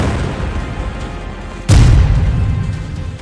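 A single bomb blast in war-zone footage from the Israel–Hezbollah conflict hits loud and sudden partway in, then leaves a heavy low rumble that lingers over steady background noise.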